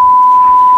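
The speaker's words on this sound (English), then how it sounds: "I'll have to beep that out." A loud, steady censor beep, a single pure tone, covers a swear word for just under a second, with faint outdoor sound in the background.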